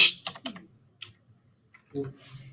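A few quick keyboard keystrokes clatter close up, then pause, followed by a couple more taps and faint voice sounds.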